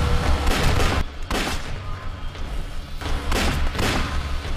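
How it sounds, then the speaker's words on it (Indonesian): Pistol shots ring out in a zombie film scene, several sharp bursts in quick succession with a brief pause between groups, loud and close over a rumbling soundtrack. "Untungnya Brian berhasil mengambil sebuah pistol dalam sebuah box dan menembak zombie itu."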